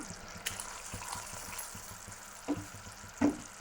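A millet laddu mixture is stirred in a pan on a low stove, a soft continuous scraping with faint sizzling and a few louder spoon knocks near the end, close by, with no voices.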